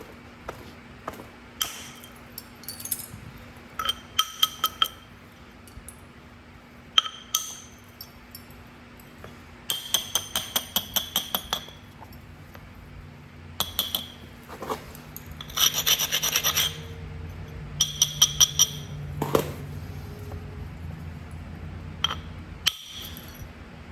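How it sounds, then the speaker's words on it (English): Flint being knapped with a bumper tool, with repeated sharp clicking taps and scraping rubs in irregular bursts separated by quiet pauses, close and fairly faint, no talk. "Switch to this bumper for a change."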